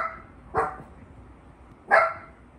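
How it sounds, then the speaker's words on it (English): A dog barking early in the morning, two separate sharp barks about a second and a half apart, moderately close with quiet room noise between them and no talking. "I had this doggo recorded live and on video of waking me up"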